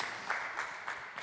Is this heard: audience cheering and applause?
yes